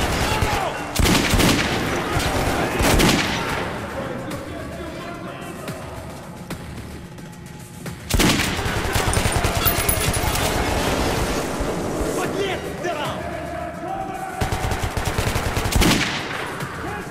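Bursts of gunfire from the post-apocalyptic subway shooter Metro 2033 Redux, with two sharp volleys near the start and another around the midpoint over a constant rumbling game ambience.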